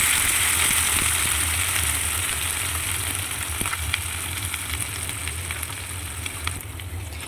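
Chopped Malabar spinach fries in oil with a bay leaf and panch phoron spices, giving a steady, close, continuous sizzle with faint crackles and occasional light clinks throughout.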